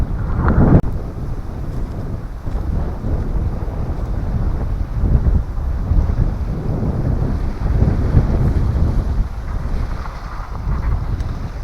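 Strong wind gusts at a backwoods campsite, buffeting the microphone with a constant low roar that swells and eases, with no voices.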